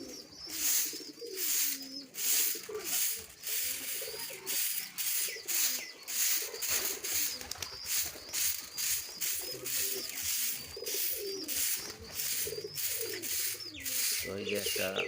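Giribaz fancy pigeons coo over and over in soft, rolling calls while being fed grain at a cement feeding spot, close by, with light scraping and rubbing sounds mixed in.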